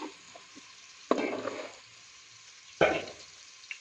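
Onions frying in oil in a pan over low to medium flame, a soft steady sizzle with two louder bursts of crackling as they are stirred or added.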